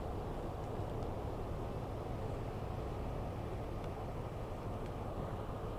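Class 153 one-coach diesel train running out of Cardiff Central in Train Sim World 5, a steady rumbling engine and rail drone held at an even level with a few faint clicks on top.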